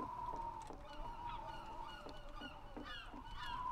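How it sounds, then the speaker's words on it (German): Birds in Garry's Mod Trouble in Terrorist Town give repeated honking, gull-like calls in an irregular series, moderately loud over a steady ambient background. "Die Möwen heißen die, glaube ich."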